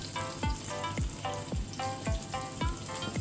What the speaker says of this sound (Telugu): ఉల్లిపాయలు, పచ్చిమిర్చి వేసేద్దాం.